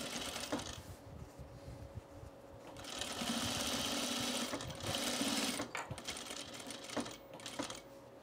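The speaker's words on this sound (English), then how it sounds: "So we can put our back stitch right here." A sewing machine stitches a back stitch on a men's shirt in short, fast bursts, its rapid needle clatter close and clear, pausing briefly between runs.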